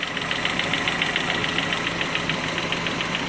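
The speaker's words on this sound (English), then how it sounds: "see that ticking sound right there?" A Mazda Miata's 1.6-litre engine idles with a fast, steady ticking from its hydraulic lash adjusters, a close and constant mechanical patter over a continuous engine hum.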